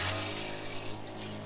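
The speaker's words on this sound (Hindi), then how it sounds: "पानी का प्रेशर ये नीचे से आ रहा है, और ये मिस्ट पंप है 12 वोल्ट का" A 12-volt mist pump in a Land Cruiser 40 Series camper conversion hums steadily while water runs from the tap, a continuous even whir with a running-water hiss, close and moderately quiet.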